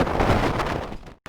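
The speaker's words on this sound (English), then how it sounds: "Woo, it's windy" Loud, gusty Nevada wind buffets the microphone in a continuous broadband roar, with a brief dropout near the end.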